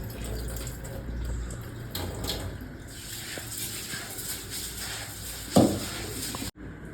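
Running water with splashing as rice for athirasam is rinsed by hand, a steady wash of water throughout with a brief louder splash near the end.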